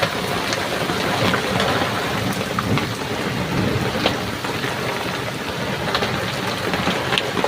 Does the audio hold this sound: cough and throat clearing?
no